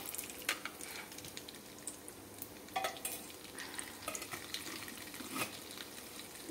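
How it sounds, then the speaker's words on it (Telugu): Tempering spices sizzle quietly in hot oil, a soft crackling hiss broken by occasional sharper pops and stirring scrapes, faint and close. "ఇప్పుడు తాలింపు వేసుకున్నాము"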